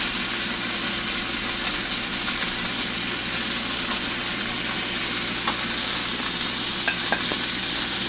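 Onions and burgers fry in a pan with a loud, constant sizzle and hiss, faint scraping and clinks marking the onions being lifted out.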